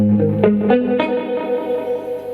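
A distorted electric guitar tone through a Catalinbread Adineko oil can delay pedal, with dark, echoing repeats, a few plucked notes trailing off into a murky decay.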